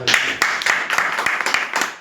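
A small gathering at a motivational meeting claps for a first-time attendee, a loose burst of distinct hand claps with uneven rhythm, fairly close and loud, with some voices mixed in.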